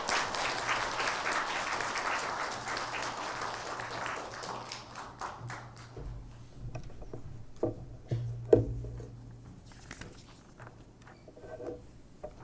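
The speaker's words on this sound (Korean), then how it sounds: "우리 박수로 우리 목사님을 환영하겠습니다" A church congregation at a Hanyang University Sunday service claps to welcome the pastor, with dense applause at first that thins into scattered claps and taps, and a low hum beneath.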